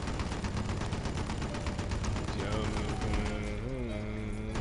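Rapid, sustained machine gun fire in Red Faction 2 rattles loudly and steadily throughout, layered with dense game sounds and music.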